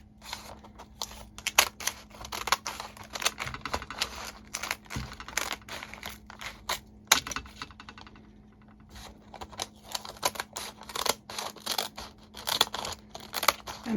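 Scissors cut a sheet of foraged fruit leather into strips with quick, close, repeated snips, pausing briefly partway through before the steady snipping resumes.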